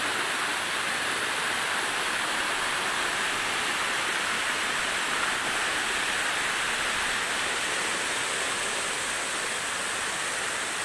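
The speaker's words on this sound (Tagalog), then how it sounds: "So dito marami pang waterfalls." Steady, roaring rush of forest waterfalls fills the whole stretch, a broad, constant wash of falling water with no pauses and no voices.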